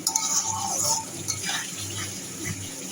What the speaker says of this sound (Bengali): এখন মশলাটাকে ভালো করে কষানো হচ্ছে